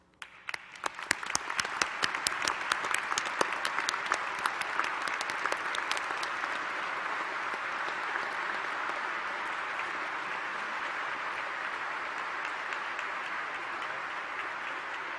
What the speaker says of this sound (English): Let's have applause for all of the winners